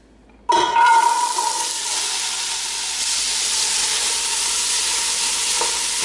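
Vegetables hit a hot pan with a sudden loud sizzle and keep frying steadily, the hiss holding strong as they are stirred, with no talking.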